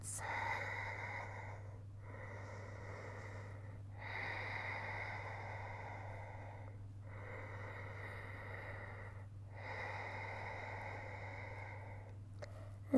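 Slow, deep breaths during yoga practice, with long airy inhales and exhales in a calm rhythm that repeats about four times, close but quiet over a low hum, with no speech.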